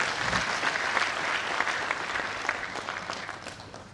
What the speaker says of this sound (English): Shall we give the Commandant another round of applause?